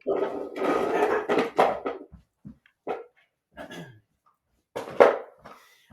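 Dogs bark and yip indoors in several loud, close bursts with pauses between, some sounds softer and whimpering.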